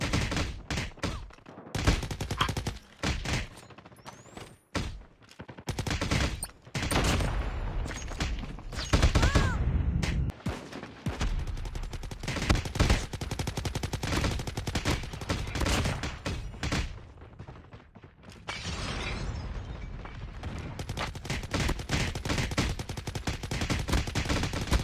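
Long-range gunfire in the Call of Duty Mobile video game, dense bursts of automatic fire and rapid shots crackling throughout, loud and continuous with a brief quiet patch near the end.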